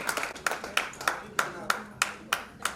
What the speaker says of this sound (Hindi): जोरदार ताली रुकनी नहीं चाहिए